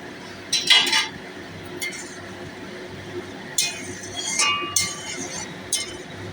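Metal pot lid lifted off a cooking pot of simmering green mango curry, giving sharp clinks and scrapes in short bursts over a low kitchen hum.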